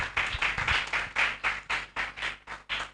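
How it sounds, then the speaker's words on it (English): Audience clapping at a book launch event, a rhythmic series of about a dozen distinct claps in a regular beat, moderately quiet and clear, with no talk. "it will not be out of place to celebrate him with a hand clap if your hands are free"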